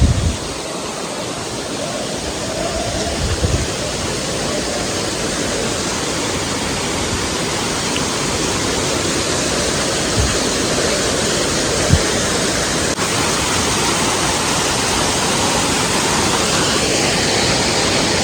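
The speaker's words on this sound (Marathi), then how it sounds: "आजचा नावनकोंडचा धबधबा आपण पाहूया" Navhankond waterfall at Talavade village roars as a dense, continuous wash of falling water, loud and unbroken throughout with no voices.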